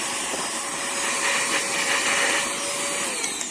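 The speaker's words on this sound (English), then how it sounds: "Pretty cute little vacuum." A CODN cordless handheld car vacuum cleaner runs close up with a steady, even high-pitched whir and a faint tonal whine, unbroken for the whole stretch.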